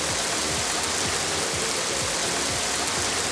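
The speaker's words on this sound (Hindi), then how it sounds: "रावलपिंडी और इस्लामाबाद में बारिश से जल थल एक हो गया" Heavy downpour over Rawalpindi and Islamabad with floodwater, a dense steady hiss of rain and rushing water filling the scene, loud and continuous with no voices.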